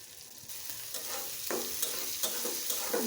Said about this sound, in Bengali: ভেজে নিচ্ছি, দেখো বট ভাজিটা কি সুন্দর কালার আসছে